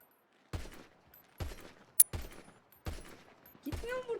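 Gunfire in a GTA roleplay shootout: five or six separate loud shots spaced about half a second to a second apart, each with a short echoing tail, and one sharp high crack in the middle.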